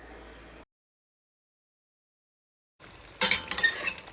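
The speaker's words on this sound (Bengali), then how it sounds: "এই তো আমি সবগুলো চিকেন দিয়ে দিচ্ছি এখন একটা কড়াইতে" Chicken pieces tipped into a kadai: a sizzle and clatter of meat and utensil against the pan, loud and close, following a brief faint stretch and a silent gap.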